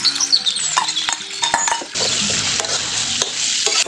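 Curry paste stir-frying in hot oil for a northern Thai curry (gaeng hoh), with a steady bright sizzle and scraping, knocking spatula strokes against the pan, close and loud.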